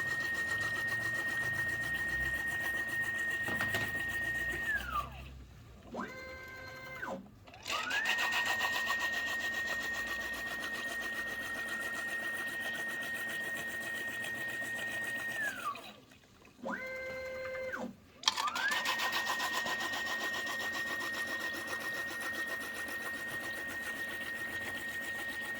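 A 29x29 matrix bottle filling machine runs with a constant mechanical whir and a steady tonal whine, interrupted twice by brief pauses with falling and stepping tones as it indexes, then resuming its drone.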